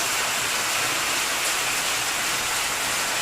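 Heavy rainy-season rain in Cambodia pours down in a dense, even hiss, loud and unbroken throughout with no voices.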